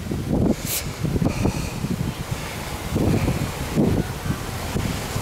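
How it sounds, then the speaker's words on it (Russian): Steady autumn wind gusting across the microphone on a walkway in Kemer, Turkey, with broadband rumbling buffets rising and falling in waves throughout, no voices. "ветер дует, ветер такой"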